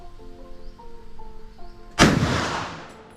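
A single loud gunshot cracks out at a Cu Chi Tunnels shooting range in Vietnam, then rings off in a long decaying tail; faint tonal hum comes before it.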